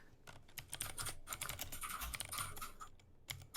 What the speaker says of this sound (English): we can hear typing.